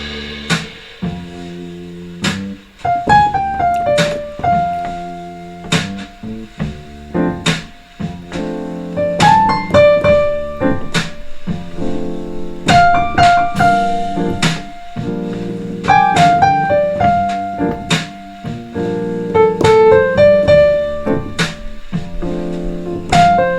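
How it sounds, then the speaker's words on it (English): Blues piano with a melodic right hand over punchy left-hand chord accents, rhythmic stabs and short phrases that are close and fairly loud, played alone without speech. "rhythm accentuations in the left hand that sound like this"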